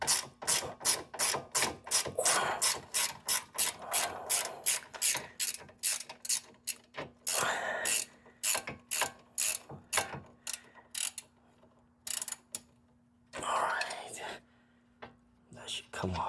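A ratchet spins a suspension bolt loose on a 2009 Toyota Corolla, giving rapid runs of clicking pawl strokes in bursts with brief pauses, close and clear, with a few quiet mechanical rattles near the end.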